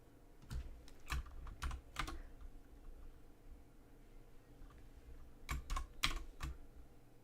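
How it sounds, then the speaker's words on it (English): Fast bursts of typing on a computer keyboard come in two clusters of quick, crisp clicks, separated by a quieter stretch with faint background hiss. "when someone is typing?"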